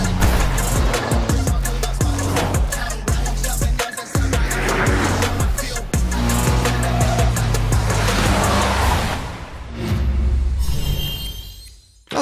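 A car drifts in the video game NTE with its roof retracting, a loud continuous engine roar with rising and falling revs and tire noise that fades near the end.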